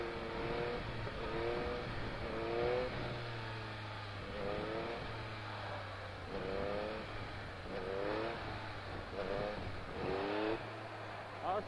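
A Yamaha MT-09 motorcycle engine rises and falls in repeated surges of acceleration, at a moderate level throughout, with a wind-buffeted, on-board character and the rider's voice faintly underneath at times.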